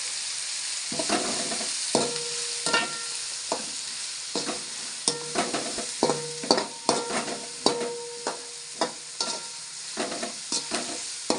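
Onions frying in oil in a pan for a squid curry, a constant sizzle punctuated by frequent sharp clinks and scrapes of a spoon stirring against the pan.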